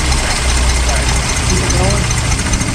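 A 1966 Mustang barn-find engine idles close and loud after sitting for 40 years, a rough steady rumble with uneven pulsing, while people talk over it.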